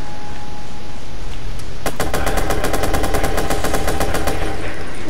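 Rapid automatic AK-47 fire in the Watch Dogs video game breaks out about two seconds in. It comes as a loud, fast, evenly spaced burst of shots that carries on for roughly two and a half seconds over low background game ambience.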